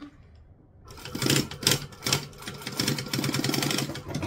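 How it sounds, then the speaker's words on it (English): A domestic sewing machine runs a straight seam for a dress-up doll project, starting after a short pause and then chattering steadily in quick, even stitching bursts, close and clear with no talking. "So we're just sewing the straight bit."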